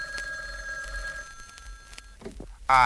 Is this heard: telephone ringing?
yes